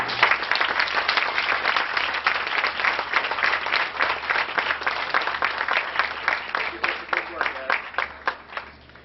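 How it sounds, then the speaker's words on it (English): Applause from an audience at a school awards ceremony fills the room in a dense, even patter of clapping hands, holding steady and then thinning slightly toward the end. "I want to give these two guys a round of applause for being part of my staff"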